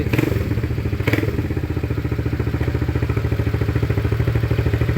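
A classic motorcycle engine fires up and settles into a steady, loud, rhythmic idle with a few thumps near the start, running alone close by.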